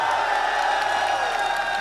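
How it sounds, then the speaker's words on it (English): A huge esports arena crowd at the Rocket League World Championship roars and cheers loudly and continuously, a dense wall of whoops and shouting with no pause. "This is the greatest crowd I've ever seen in my whole career, bro. Like, it's so loud."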